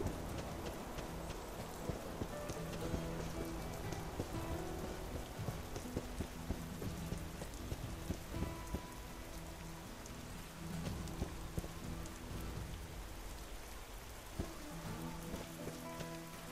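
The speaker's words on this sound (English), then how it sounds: "Our friend is now complaining about the rain. I agree. I gotta love the ambience, though." Steady rain ambience in the video game Dwarf Fortress, a continuous patter of raindrops on surfaces with faint low rumbles underneath, playing alone without talk.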